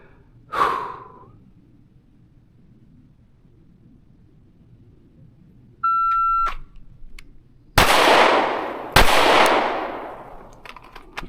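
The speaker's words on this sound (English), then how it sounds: "the next string will be draw and fire 1 to the body, 1 to the head." A shot timer gives a steady electronic beep, then a Canik Prime pistol fires two loud, sharp shots about a second apart during a draw-and-fire qualification drill, one to the body and one to the head, with a faint breath heard earlier.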